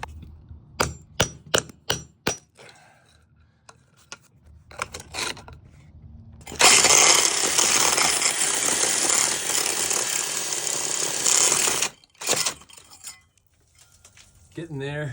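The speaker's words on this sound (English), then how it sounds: "When the hole cutter butts up to the brick, you'll have to break that out, chisel that out a little bit so that you can keep going." A hole cutter drilling through a thick brick wall, starting with sharp, separate chisel strikes on brick, then a long continuous loud grinding drill run, followed by a few more knocks and renewed drilling.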